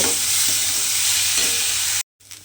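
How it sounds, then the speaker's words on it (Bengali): Lentils fry lightly in hot oil, a loud, even hiss and sizzle with a few soft stirring thumps, then a sudden brief silence and a quieter return. "তেলের মধ্যে ডালটা দিয়ে আমি কিন্তু এখানে হালকা করে ভেজে নিয়েছি।"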